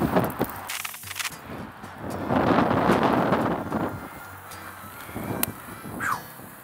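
Wind blows outdoors and buffets the microphone in rumbling gusts that swell in the middle. Faint rustling and a brief bird call sit in the background, and no one speaks.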